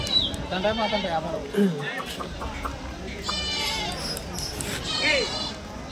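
Goats bleat at an outdoor goat market in Kadiri, several cries rising over a steady babble of people talking and crowd noise, near and moderately loud.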